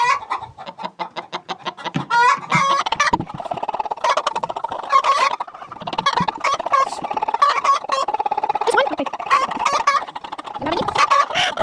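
Over a hundred hens fill a farm chicken coop during egg collecting with constant, close, loud clucking and squawking, many birds calling over one another in a busy, overlapping chorus.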